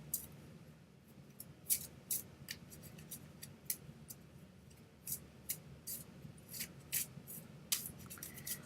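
Shuffling during a name draw: a run of crisp, papery snaps and rustles in irregular bursts, fairly close, over a low steady room hum with no talking.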